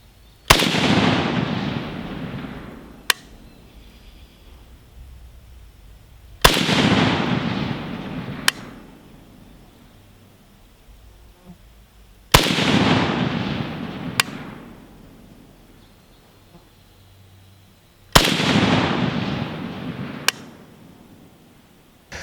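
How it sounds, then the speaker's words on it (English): Rapid magazine dumps from a C39V2 rifle at an outdoor range: four long, loud strings of fast rolling gunfire, each ending in a sharp final shot, separated by pauses of near silence. "after those 3 magazines dumps, this is the group"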